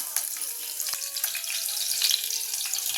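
Chilli dropped into hot oil already tempered with cinnamon, cloves and pepper for a mung bean soup, giving a steady bright sizzle with a few soft clinks and stirring touches, close and continuous.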